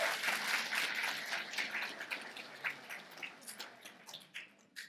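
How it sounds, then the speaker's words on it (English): Audience in a public hall clapping for a visiting EU parliamentary delegation, a crowd of hands applauding steadily then thinning into scattered claps toward the end. "So please give them a big applause."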